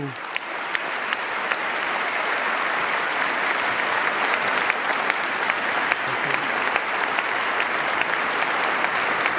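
Sustained applause from a large crowd at a presidential inauguration speech, dense clapping holding at an even level throughout.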